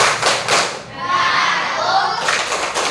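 Children in a classroom clapping along to a patriotic clap chant, sharp rhythmic claps at the start and end with a sustained noisy stretch between, close and loud.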